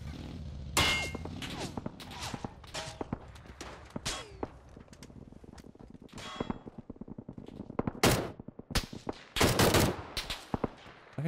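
Gunfire in the video game PUBG on Xbox Series X: rapid bursts of sharp shots and metallic clangs, loud and close, with heavier volleys near the end and faint footsteps between them, without speech.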